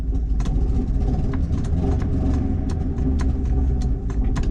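A Ford Festiva engine runs roughly on only one cylinder, a steady low rumbling idle with uneven pulsing beats, close and continuous throughout.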